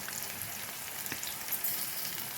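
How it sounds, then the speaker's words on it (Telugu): Onions, split green chillies, turmeric and ginger garlic paste frying together in a pan, a steady, fairly quiet hiss of sizzling oil with faint stirring. "ఇవన్నీ వేసి కొంచెం వేగనివ్వాలి"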